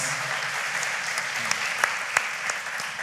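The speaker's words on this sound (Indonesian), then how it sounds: "Boleh kasih tepuk tangan. So please give applause." A church congregation breaks into applause, a dense wash of many hands clapping together, sustained and fairly loud with a few sharper claps popping out near the end.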